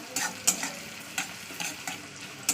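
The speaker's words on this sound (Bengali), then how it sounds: "তো চলুন পেঁয়াজটা গরম হয়ে যায়, ভাজা হয়ে যায়।" Onions fry in a pan with a soft, continuous sizzle broken by a few quick scraping stirs, close and quiet, with no talking.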